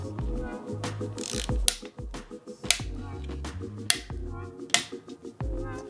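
Sharp clicks from a torque wrench tightening the bolts on an Old Man Mountain Manzanita bike cradle, several separate snaps spread over a steady mechanical ratcheting background, close and fairly loud.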